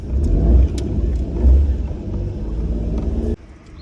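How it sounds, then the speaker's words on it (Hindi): A car engine starting and revving, a deep close rumble with two strong surges of revs before settling to a steady idle that cuts off abruptly near the end; no talking. "ओके गाड़ी को स्टार्ट करते हैं।"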